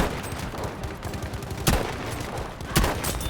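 Enemy gunfire in the video game Battlefield V crackles steadily in the background, with two louder sharp shots standing out near the middle and end, a dense combat din with no talk over it.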